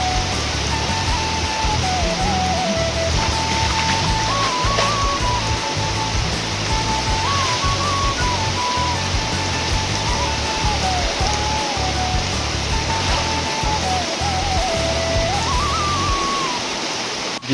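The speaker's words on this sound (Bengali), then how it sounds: "বৃষ্টিতে পুরো ভিজে গেছি" Heavy first monsoon rain pours onto a rooftop as a loud, dense, unbroken hiss that stays steady throughout, with a faint wavering whistle-like tone running over it and no talk.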